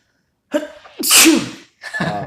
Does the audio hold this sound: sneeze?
yes